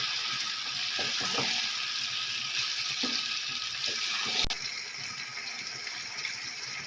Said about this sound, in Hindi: अब इसमें कलेजी ऐड करेंगे। तो अच्छी तरह से मिक्स करेंगे।